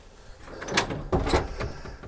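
A door in an attic area thuds shut with a couple of knocks and rattles, close and moderately loud, with no talk over it.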